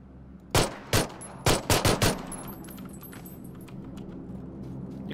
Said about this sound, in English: Oh great, someone else is shooting at me.